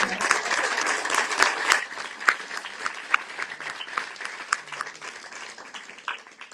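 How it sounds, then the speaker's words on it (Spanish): A small group applauds, scattered claps building briefly then fading over several seconds. "Bueno, gracias, Majo. Un aplauso."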